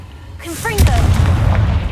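Confringo blasting spell from Hogwarts Legacy: a short rising magical whoosh followed by a loud booming explosion that rumbles and decays.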